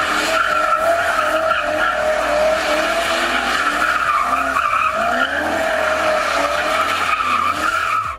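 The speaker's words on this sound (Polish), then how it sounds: "Nie trzeba w końcu gadać, jak ktoś wywija takie bączki Ładą V8." Lada with a V8 engine spinning donuts, tires skidding and squealing continuously with engine roar underneath, loud and close throughout.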